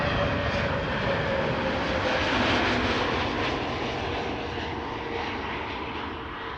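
A KM Malta Airlines jet arriving at Amsterdam Schiphol Airport, a steady, fairly distant engine roar and rumble that holds level for several seconds with no talking.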